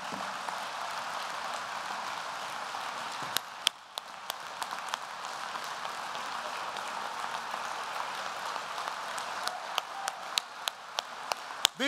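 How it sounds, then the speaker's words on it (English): A union event crowd applauds young members, a steady wash of clapping that carries on for about twelve seconds, briefly dipping and then rising again, with sharp individual claps standing out near the end. "Let's give these young people a round of applause."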